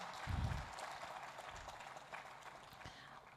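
An audience at an oil and gas skills expo applauds, a steady wash of clapping that starts with a louder burst and then holds even for a few seconds.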